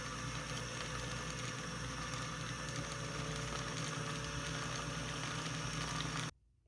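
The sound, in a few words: Vintage Singer 301 sewing machine winding a bobbin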